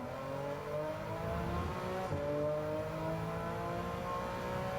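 A Porsche Group 3 race car in a racing video game, its engine droning steadily at high revs with rising gear sweeps, a continuous moderately loud tone running throughout.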